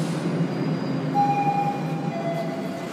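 A train rumbles steadily past with a broad, continuous roar and a brief high metallic squeal from the wheels partway through, with no voices.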